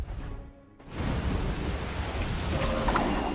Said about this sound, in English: Now we put rain.